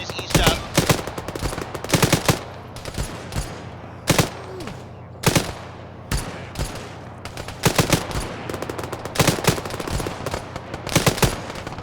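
Machine gun fire during combat rattles out in repeated sharp bursts, loud, close and echoing, with scattered single shots between volleys and voices talking underneath.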